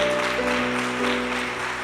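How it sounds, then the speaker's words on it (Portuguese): A church congregation applauds in a continuous, even wash of clapping for the whole short stretch, with a faint hum underneath. "Você perdeu um grande motivo de aplaudir o Senhor."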